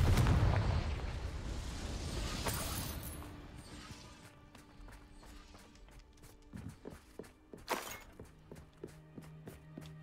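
A Confringo blasting spell in the video game Hogwarts Legacy sets off a loud rumbling explosion at the start that fades over a few seconds, followed by scattered debris and footstep-like clicks.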